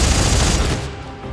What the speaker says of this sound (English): It's a minigun.